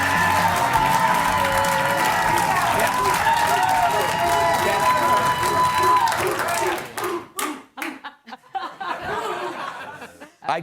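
Studio audience applause with scattered chuckles, loud and dense for about six seconds before thinning into a few sparse claps and murmurs.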